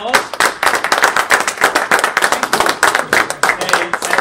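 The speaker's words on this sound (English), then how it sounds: "Please give Chris a round of applause." An audience claps after a stonemason's lecture, a dense, loud burst of many hands clapping quickly and continuously at close range.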